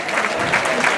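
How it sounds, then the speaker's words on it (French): A brief burst of audience applause for the elder Touré Bazoumana at a Paris tribute gathering, a steady wash of many hands clapping close by, lasting only a moment. "Applaudissements pour le doyen Touré Bazoumana."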